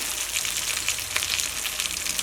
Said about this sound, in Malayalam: അപ്പോൾ നമ്മുടെ ചാള വറുത്തുകൊണ്ടിരിക്കുകയാണ്.